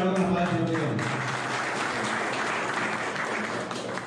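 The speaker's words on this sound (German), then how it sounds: "Anschließend endet auch hier die Messe mit Applaus und Händeschütteln." Applause from inmates at the end of a Mass inside a Paraguayan prison, brief speech-like sounds at first, then dense clapping that stays steady and fairly close for several seconds.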